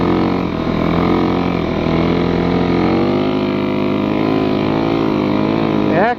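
A snow bike engine drones steadily and loudly while riding through trees in snow, a constant close harmonic roar with slight pitch shifts and a brief rev near the end, heard alone.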